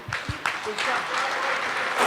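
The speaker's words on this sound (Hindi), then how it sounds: "let's have a round of applause" An audience in a hall breaks into applause, a dense, steady wash of clapping that builds after a voice and continues throughout.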